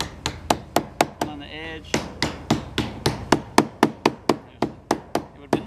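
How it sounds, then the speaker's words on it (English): Rubber mallet tapping a folded metal edge on a camper addition, a steady run of sharp, evenly spaced knocks close by with brief talk between blows. "taking a rubber mallet"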